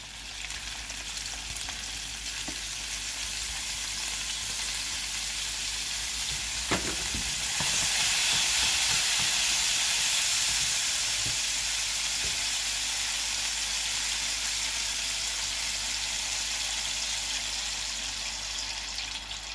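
Raspberries sizzle and spit in a hot pan during deglazing, a steady broadband frying hiss with stirring scrapes, swelling louder midway and then easing, with no talking.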